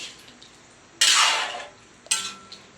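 Two scraping, swishing strokes of a utensil through beef caldereta stew in a pot, a longer one and then a shorter one, close and fairly loud.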